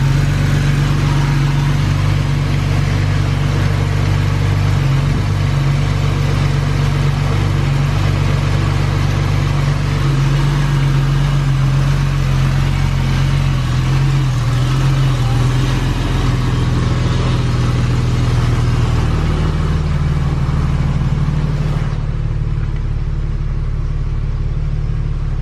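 A Ford FG car engine fitted with a cold air intake idles steadily just after starting, a loud, close, even rumble that continues alone throughout.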